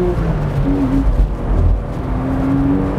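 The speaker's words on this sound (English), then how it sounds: "have that fizz of this flat six Porsche engine" A Porsche Boxster's flat-six engine drones low and steady from nearby, with slight rises in pitch suggesting light revving rather than a full sweep to high rpm.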